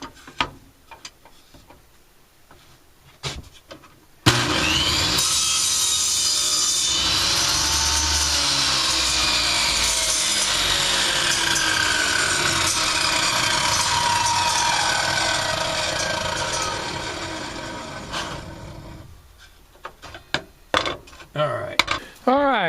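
A power saw cuts through a piece of old wood in one loud, sustained pass lasting about fifteen seconds, with a sharp start and a fade as the blade runs down. Quieter handling noises and knocks come before and after the cut.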